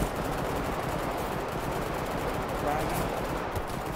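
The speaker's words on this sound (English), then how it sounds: "Oh, machine gun, machine gun! Machine gun!" Rapid machine gun fire rattles continuously in the military game Arma 3, a dense fairly quiet burst of shots throughout, with a voice shouting over it.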